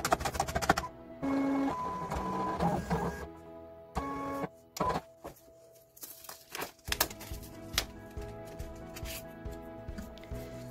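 A Silhouette Portrait 3 cutting machine cutting a test rectangle, its motor whirring and buzzing in short bursts with pauses and clicks, fairly close and alone.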